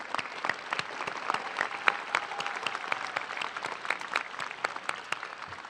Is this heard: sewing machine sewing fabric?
no